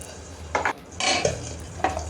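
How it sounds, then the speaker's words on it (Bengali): Pabda fish frying in a home kitchen pan: three short bursts of clattering and sputtering stand out over a low, steady background hum, with no talking. "এরপর পাবদা মাছগুলো ভেজে নিচ্ছি।"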